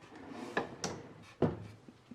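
A wooden kitchen drawer meant for a large pot slides and knocks a few times, short thuds and scrapes close by in a quiet room.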